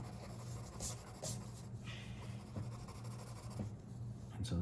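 Pencil drawing Leonardo from Teenage Mutant Ninja Turtles on paper: steady close scratching and rubbing strokes with a few sharper taps, over a low background hum, no voice.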